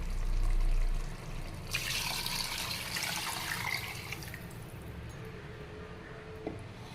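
Water pours into a cooking pot while making chicken biryani, a steady splashing trickle that swells for a few seconds and then eases into a quieter fill, close by with no talk.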